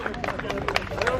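A crowd of people welcoming back a delegation claps in a dense, uneven patter, with voices and chatter running under the applause.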